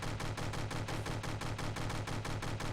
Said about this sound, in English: Let's try to shoot it.